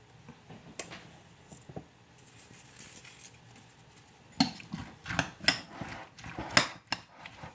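Utensils clink and scrape against a bowl while spaghetti squash is stirred together with lime juice and salt, in irregular close taps that grow busier toward the end.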